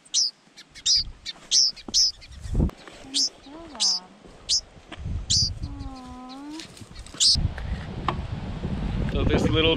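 Adult songbirds give sharp, repeated alarm chirps in strong lakeside wind. The calls come in a regular series with tonal whistles between them, and gusts and a person talking run underneath.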